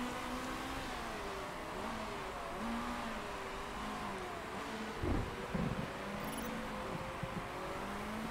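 Racing kart engine during an endurance race at Guildford, a steady buzzing drone that rises and falls in pitch as it revs, continuous and fairly near with a brief louder burst midway, no talk.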